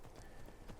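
Horse hooves clip-clop in the Skyrim video game, a quick rhythmic run of soft thuds over less than a second, faint and close with no talk over it.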